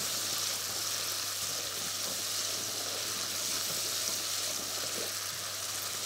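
Garlic sizzling in butter in a pan, a steady soft frying hiss with faint crackles, heard alone with no talk over it.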